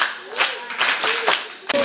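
Children clapping briefly on a television talk show, a short burst of scattered hand claps. Light talking overlaps the claps.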